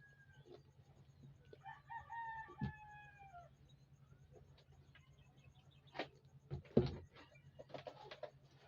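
A rooster crows once in a clear drawn-out call against a quiet rural background, followed by a few scattered clucks and short knocks.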